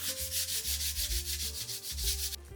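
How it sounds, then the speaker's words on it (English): Light scuff sanding on a wooden picture frame, a rhythmic back-and-forth rasp of sandpaper close to the ear, about a dozen steady strokes with no talk. "I went ahead and gave the wood frame a very light scuff sanding."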